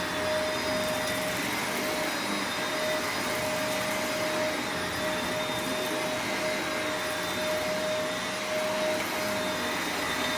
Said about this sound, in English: this vacuum is cleaning the carpet very well